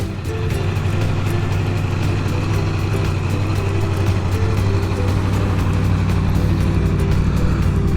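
A 2021 Aprilia Tuono Factory motorcycle engine idles steadily up close, with a constant low rumble and no break for the full length.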